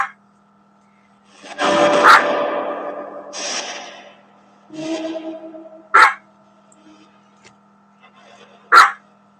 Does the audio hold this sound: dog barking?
yes